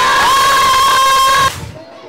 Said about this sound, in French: On applaudit trop fort.